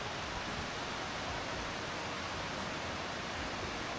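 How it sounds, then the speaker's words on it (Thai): Waterfall in a forest, a steady broadband roar of rushing water that stays constant and even throughout, with no voices. "เข้ามาเขตแถวนี้ก็จะเป็น เสียงน้ำตกนะครับพี่น้อง"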